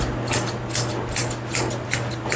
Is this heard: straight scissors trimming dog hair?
yes